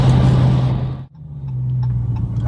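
A Dodge Scat Pack held in second gear in manual mode, its engine climbing toward 3,000 rpm, gives a loud steady rumbling drone close by that briefly dips, then carries on at a lower, even hum.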